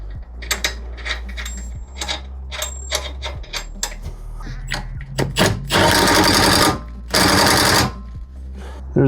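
A 19mm strut nut being tightened on a Kia Sedona suspension strut, rapid ratcheting clicks in bursts followed by two longer loud buzzing runs of a power tool, close up.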